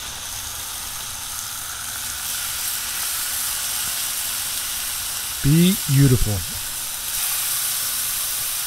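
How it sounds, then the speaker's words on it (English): Chicken fillets straight from the bag hit a hot Blackstone 22-inch griddle, bursting into a brief, close sizzle over steady background hiss, with a voice speaking briefly. "You can hear that sizzle."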